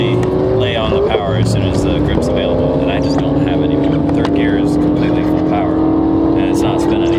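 A Nissan on hard tyres pulls at full power in third gear, the engine loud and close with a long rising whine that holds steady across the run.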